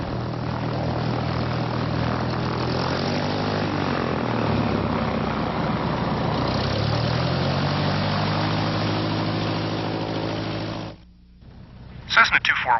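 A Cessna propeller engine runs at a steady drone while the plane taxis toward the runway, holding even and fairly loud, with the pitch sliding up and down, then cutting off abruptly near the end.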